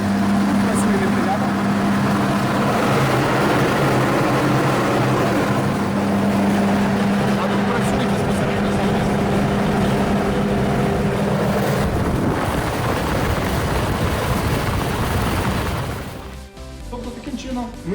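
An STvega garlic separator machine that splits garlic heads into cloves runs with a loud, steady mechanical roar and hum that continues unbroken and stops abruptly near the end.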